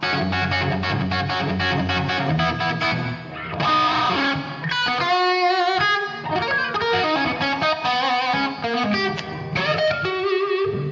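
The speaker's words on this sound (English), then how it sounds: "This is just a very simple reverb." An electric guitar plays chords and single notes through a simple reverb effect, the tones ringing out loud and close with a lingering wash trailing after each phrase.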